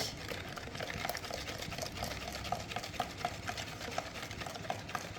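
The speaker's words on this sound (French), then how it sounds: "vous mélangez votre beurre avec la première préparation que vous avez faite" Melted butter being stirred into madeleine batter in a bowl, a quiet close wet stirring with a regular scraping rhythm of soft repeated strokes.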